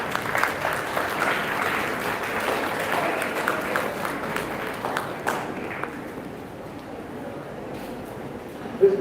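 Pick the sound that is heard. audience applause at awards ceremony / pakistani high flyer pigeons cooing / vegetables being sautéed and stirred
audience applause at awards ceremony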